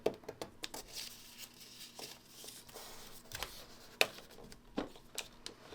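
Scissors trim a quilt fabric piece in a series of quiet, crisp snips and short rustles, with irregular cuts spaced over several seconds and no voices.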